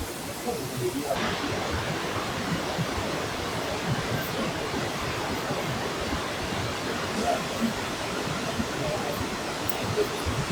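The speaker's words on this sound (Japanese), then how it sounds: "約100メートルから落下する滝は圧巻です。" Kegon Falls in Nikko, a waterfall dropping about 100 meters, roars as a dense, steady broadband rush with no letup, loud and continuous throughout.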